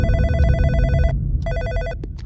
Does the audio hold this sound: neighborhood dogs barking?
no